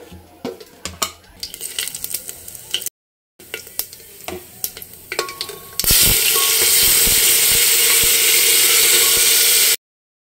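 Khichdi is cooked in a pan of oil with asafoetida, cumin and tomato paste. A spoon scrapes and stirs in uneven strokes, then after a brief gap a loud, steady sizzle of frying holds for several seconds up close.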